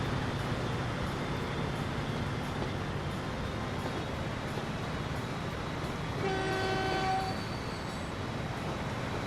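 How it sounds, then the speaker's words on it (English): A 1950s-style train in the Transport Fever video game rumbles steadily along the track, then sounds a short tonal horn blast near the end. "this is a very 1950s looking train"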